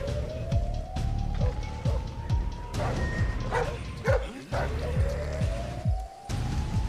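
A dog barks repeatedly in the stealth video game Splinter Cell Blacklist, with sharp yips and bow-wows over a steady game backdrop of rumbling music and ambience, with rising tonal sweeps throughout.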